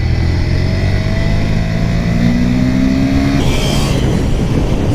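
A Honda motorcycle engine pulls hard at full throttle, a loud steady drone with rising harmonics, then a sharp surge of roar near the end, close and alone with no talking.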